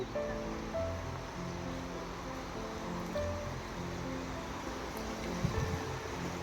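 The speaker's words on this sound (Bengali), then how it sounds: "ওয়াও জলের আওয়াজটা দেখেছো কি শান্ত" A small stream flows through the Scottish village of Luss, a steady, even rush of water with a soft gurgle running alone and unbroken from start to finish.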